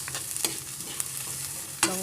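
Shrimp paste (balaw) sautés in a pan with ginger, frying steadily throughout, with a few sharp scrapes and clinks of a spatula against the pan standing out.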